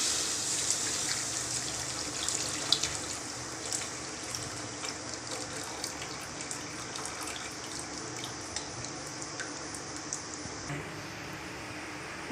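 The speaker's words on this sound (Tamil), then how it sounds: "இப்போ காய்ச்சினதை நல்லா வடிகட்டி எடுத்துக்கலாங்க" Boiled jaggery syrup, melted with half a cup of water, strained through a filter while making an aval pori sweet, giving a steady liquid trickle and splash that runs the whole way without talk.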